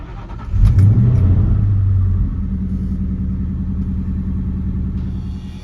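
A yellow Ford Mustang GT with a cammed 2V V8 rumbles close by as it pulls out. A brief rev swells, then a steady, deep idle-like drone holds with no talk.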